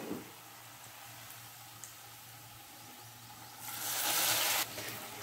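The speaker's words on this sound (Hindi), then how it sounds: "तो अब हम इसमें ऐड कर देंगे अपना ड्राई फ्रूट्स का तड़का," Dry fruit tadka added to carrot halwa gives a faint low simmer, then a louder hissing sizzle bursts up near the end and holds for about a second before easing off.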